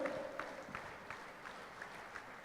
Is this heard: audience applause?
yes